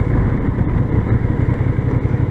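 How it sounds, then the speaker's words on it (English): Honda CB750 Hornet motorcycle engine on a test ride, a steady rough low drone with a fast pulsing beat, loud and close, no talking. "It's a very Street Fighter kind of bike with its fast acceleration and also very aggressive engine brake."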